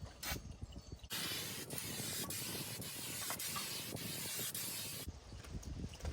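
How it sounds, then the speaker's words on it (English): Wide-fan paint spray gun laying down up to a ten-inch band, a loud steady broadband hiss running for about four seconds, with brief quieter moments before and after. "Up to 10-inch wide spray."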